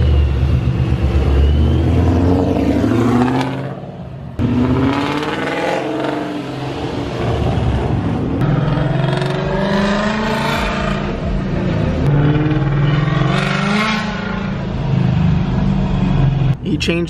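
A Honda S2000 fitted with a loud modified, dumped exhaust revs and pulls away, its engine rising in pitch through several accelerations and gear changes, with people talking over it.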